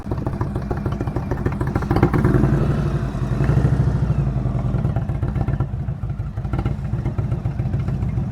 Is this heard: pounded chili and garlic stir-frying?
no